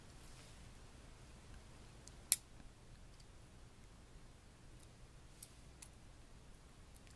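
Dull scissors snip through thin halter material for a model horse in a quiet room, with one sharp close cut followed by a few faint scattered clicks.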